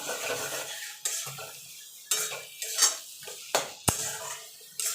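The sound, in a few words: stirring boiled taro leaves with turmeric in a pan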